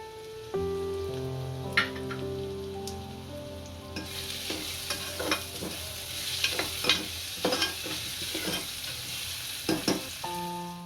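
Chopped green garlic is added to onions frying in a pan, giving a steady close sizzle broken by the scrape and clatter of stirring, with no voices.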